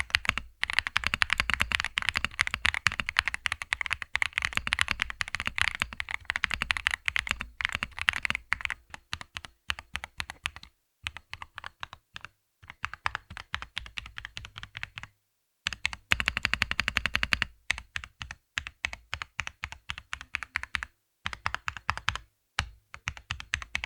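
Someone types quickly on an XVX M67 JadeStone mechanical keyboard with pre-lubed Ice Pro linear switches, a gasket mount and internal dampening layers. The keystrokes form a dense, muted clatter with a few brief pauses.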